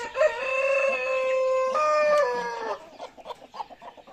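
A farm chicken gives a long, loud harmonic call broken by a brief gap, a crowing or clucking cry, followed by short scattered clucks and softer farmyard sounds.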